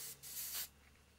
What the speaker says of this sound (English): you spray the bits that need doing